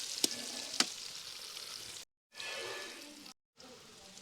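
Turmeric and chili powder sizzle in hot oil for a Kannur-style mussel roast, a steady hiss with two sharp crackles early on, broken by two brief silent gaps before the frying resumes.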